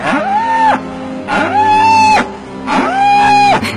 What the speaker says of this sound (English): a mother cow's bond with her young is very strong and affectionate. And she sometimes cries out for days in search of her baby.